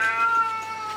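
A cat gives a single drawn-out, wavering meow, close and clear, lasting about a second.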